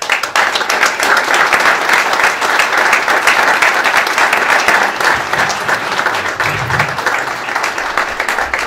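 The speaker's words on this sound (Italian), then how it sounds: "Quindi un applauso." A seated audience at a regional development agency event in San Giorgio Canavese gives loud, continuous applause that holds steady for several seconds with no talking.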